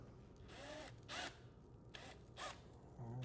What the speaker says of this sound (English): go ahead and start screwing and you can screw it open